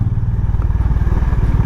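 A Honda Highness motorcycle pulls up and parks at home after a long ride from Chandigarh to Delhi, its engine idling close by with a steady, loud, low throbbing rumble and occasional light clatter.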